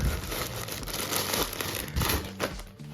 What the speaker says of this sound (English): same thing in a nice Nike bag, plastic bag.